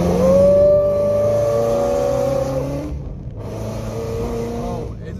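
A new Ford Shelby GT500 S650 driving on a track, its engine holding a steady tonal drone, easing off briefly mid-clip, then picking back up, close and moderately loud.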